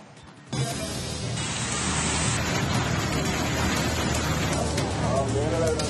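Heavy rain in Bengaluru, with water flooding the roads, makes a dense, loud, continuous roar of downpour that starts suddenly and holds steady throughout.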